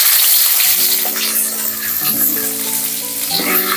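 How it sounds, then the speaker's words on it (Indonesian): Spice paste (bumbu dasar) for sayur lodeh sautéed in hot oil, giving a steady, close, loud sizzle and crackle that runs unbroken through the whole stretch, with no talking. "Kita panaskan, ditumis saja bumbu dasarnya."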